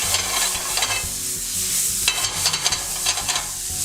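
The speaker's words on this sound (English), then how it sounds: "this may be about a minute you want to saute, just till the garlic and the shallot becomes fragrant" Shallots and garlic sauteed in a pan, a close, bright sizzle with irregular stirring scrapes and clatter, loud and continuous without talking.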